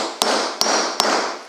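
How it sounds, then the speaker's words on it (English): Three sharp, evenly spaced taps of a steel hammer on cedar wood during birdhouse building, each a crisp close strike with a short ringing decay. "And I use a steel hammer."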